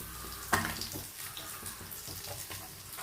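Water poured into coconut chutney, a soft close splash and trickle beginning with a sharper onset, then a gentle running pour that fades.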